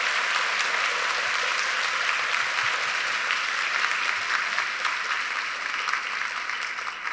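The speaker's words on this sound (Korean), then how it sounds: "근속 교직원 선생님들께 여러분 큰 박수 부탁드립니다." Dense, steady audience applause fills a university's 140th anniversary ceremony hall, held at an even level for about seven seconds with no talk over it.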